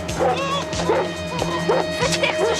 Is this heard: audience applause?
no